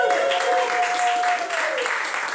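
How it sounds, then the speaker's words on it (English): Crowd applause for a performer named Bumblebee at a Halloween circus show, loud and continuous, with a held tone and voices faintly mixed in. "Big round of applause for Bumblebee."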